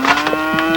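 A cow gives a single short, close moo under a steady tonal hum, loud and clear with no talking.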